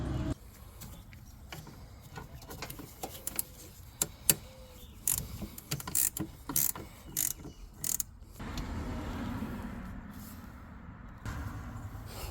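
A 10 mm ratchet works loose a transmission cooler fitting on a 2005 RAM 1500 4x4 with a 5.7L HEMI, giving a series of quick, close metallic clicks and ratcheting bursts, followed by a steadier rustling stretch.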